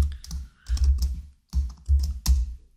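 A computer keyboard clatters as code is typed, several quick clusters of close, crisp key presses separated by brief pauses.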